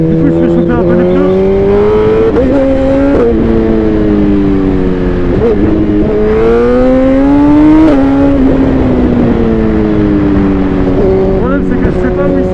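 A tuned 212-horsepower 2020 Suzuki GSX-R 1000 R sport motorcycle engine drones steadily close by while warming the tyres, pitch climbing and dipping through gear changes, loud and continuous throughout.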